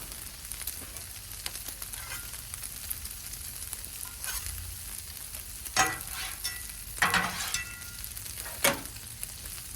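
Al pastor meat frying on a 36-inch Blackstone griddle gives a steady close sizzle, broken by a few sharp metal spatula scrapes across the flat top with no talking.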